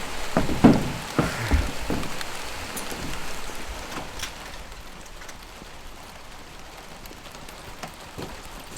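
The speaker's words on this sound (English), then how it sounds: "I can't believe this rain" Heavy rain pouring steadily on surfaces outdoors at a building site, a dense hiss with a few louder knocks and thumps early on, fading to an even wash.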